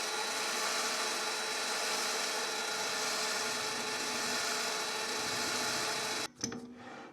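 A small benchtop lathe center drilling with a center drill held in a drill chuck, a steady continuous whirring hum of the machine running throughout, ending with a short clunk.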